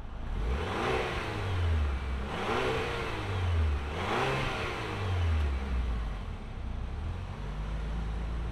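A 2024 Chevrolet Traverse LS midsize SUV driving, its engine revving up and easing off in repeated waves under steady road and wind noise, heard from inside the cabin at moderate volume without talk.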